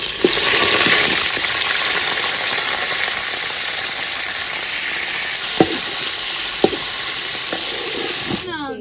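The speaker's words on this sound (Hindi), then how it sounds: "घी हमारा जो है ना गर्म हो चुका है। अभी हम कर रहे हैं चिकन ऐड।" Chicken hits hot ghee in a kadhai and sizzles loudly, a steady close hiss of frying with a few sharp taps and clinks from stirring near the end.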